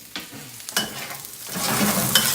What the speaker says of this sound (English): Just put the mushrooms in.